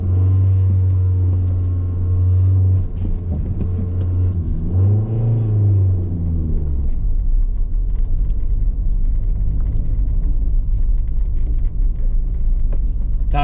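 An abandoned 1985 Dodge Daytona's engine runs with a loud, steady low rumble, rising in a brief rev midway before settling back into a continuous idle-like drone, with no voices.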